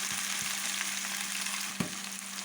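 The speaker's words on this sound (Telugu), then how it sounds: "ఇప్పుడు మనకి ఉల్లిపాయలన్నీ బాగా ఫ్రై అవుతాయి" Onions fry for a fish curry in a pan, giving a continuous close sizzle and hiss at a low, even level, with a single brief knock of a spoon or pan partway through.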